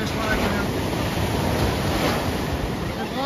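Wind gusting along an Australian beach while salmon fishing, a steady loud roar mixed with surf washing in, constant through the whole stretch.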